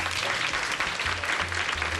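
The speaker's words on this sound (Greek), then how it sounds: "Χειροκρότημα!" Audience applause at a Miss World Tourism beauty pageant, a dense, steady clapping wash filling the hall throughout with a low rhythmic music beat pulsing underneath.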